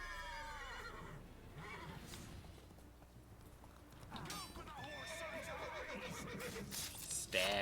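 A horse whinnies and neighs in The Witcher 3: Wild Hunt during combat, with a loud drawn-out cry at the start and another near the end, plus hoof clip-clops and fighting sounds under a talking voice.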